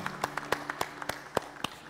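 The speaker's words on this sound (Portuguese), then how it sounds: "Bate palmas aí" A small group claps in a loose, uneven rhythm to welcome a singer at a Portela samba celebration. Separate distinct claps sound close and moderately loud over a steady low background hum.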